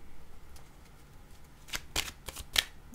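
Tarot cards being shuffled by hand, a few quick riffling bursts that grow denser toward the end, close and fairly quiet, with no voices.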